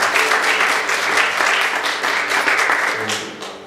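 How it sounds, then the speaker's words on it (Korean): Church congregation applauding during a Korean worship service, a dense, steady wash of many hands clapping close and loud, tapering off near the end. "우리 하나님께 박수를"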